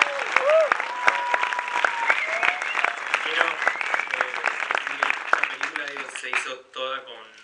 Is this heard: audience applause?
yes